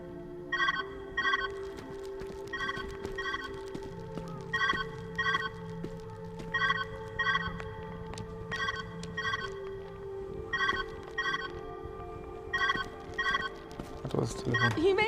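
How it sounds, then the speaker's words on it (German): A telephone rings repeatedly in the video game Viewfinder, paired trilling bursts at a regular rhythm over a low musical drone, with someone speaking occasionally. "Where's that ringing coming from?"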